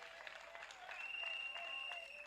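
Applause from an audience at a university event in Meru, Kenya, steady clapping that swells slightly midway and holds at a moderate, somewhat distant level.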